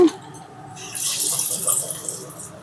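Sweet corn vadas deep-frying in hot oil, a steady bright sizzling hiss that swells after a brief quiet start and carries on close by with no talking.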